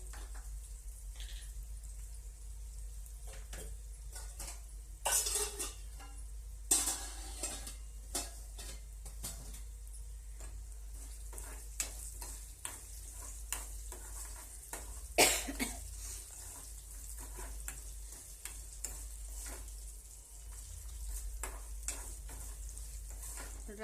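Cooled yellow rice fries in a pan with lemon juice for a festival offering, heard as a soft, low sizzle under intermittent scraping stirs and a few sharper utensil clicks.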